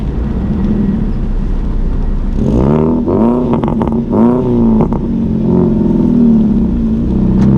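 A car engine revs hard in repeated bursts over a steady idle, loud and close, while the exhaust shoots flames after a dose of Liqui Moly fuel system cleaner.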